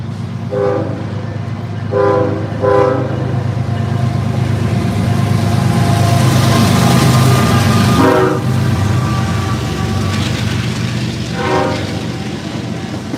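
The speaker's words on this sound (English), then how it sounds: "There comes a train." A train rolls past near a river with barges, a steady loud rumble of wagons with rhythmic clacking, and a few horn-like tonal blasts rising above it.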